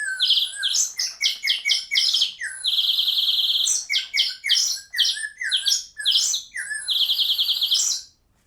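An Acme novelty whistle imitating a bird, blown in rapid chirping bursts and sustained warbling trills, loud and close with no other sounds.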